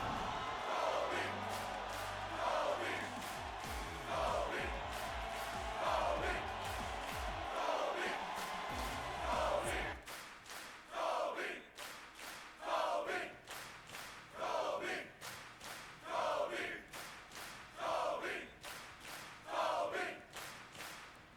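Wrestling crowd at a live show chanting a wrestler's name after a three-count pinfall, a rhythmic chant repeating in loud bursts across a large arena, with a low rumble of thuds early on.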